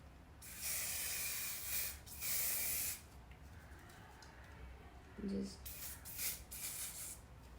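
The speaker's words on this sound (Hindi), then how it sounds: "बहुत ही दूर से पूरे बालों पे स्प्रे करूँगी।" Hair spray hisses from a can held far from the hair while styling a side-curled hairdo, with several loud bursts of spray separated by pauses and some quiet rustling.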